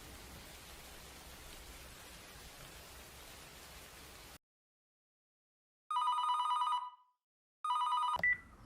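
A telephone rings in two bright electronic bursts after a stretch of soft hiss and silence, the second ring cut off abruptly.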